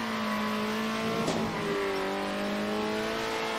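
Race car engines in the Circuit Superstars game hum and rev as steady tonal whines, with a brief sharp burst as a car passes near midway and the pitch drops after.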